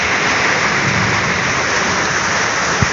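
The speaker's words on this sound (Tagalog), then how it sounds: "Ayan, lakas ng ulan." Heavy rain pours down in a dense, steady hiss on surfaces, loud and unbroken for the whole stretch, with a brief low thump near the end.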